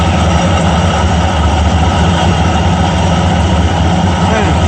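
A Ford F100 351W V8 engine idles steadily with a low, continuous rumble, close by and fairly loud, with no pauses, after valve seal replacement, with a bad water pump.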